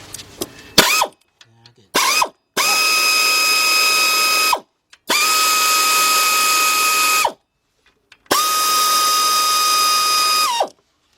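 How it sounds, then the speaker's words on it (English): Air ratchet breaking loose lower intake manifold bolts on a 2004 Chevy Monte Carlo 3.4 V6: three long, loud, steady whirring bursts with short ratchet clicks before them, separated by pauses. "take my air ratchet, and I notice how to just break them loose first"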